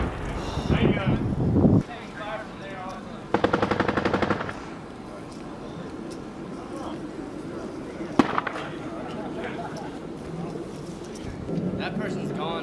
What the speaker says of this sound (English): make sure you're not shooting over the tank.